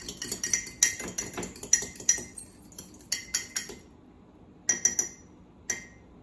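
A spoon clinks repeatedly against a dish while stirring vegetables dressed with rice vinegar, giving a series of close, bright taps in irregular bursts with short pauses between them.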